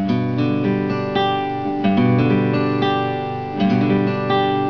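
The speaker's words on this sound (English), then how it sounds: "run through each string slow" Guitar strings plucked one at a time at a slow, even pace, each note ringing out and overlapping the next, played close and clear with no voices.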